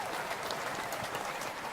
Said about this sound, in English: And here's your applause.